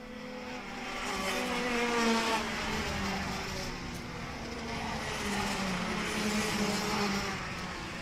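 Rotax Max racing karts on a formation lap, a steady blended drone of several small two-stroke engines at a distance, rising and falling slightly as the pack passes, with no talk.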